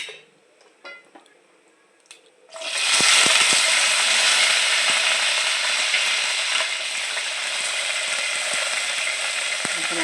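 Green chillies drop into hot oil already holding fenugreek and cumin, for a mint, tomato and coriander chutney; a loud, steady sizzle bursts in after a quiet start and holds evenly to the end, with faint stirring clicks.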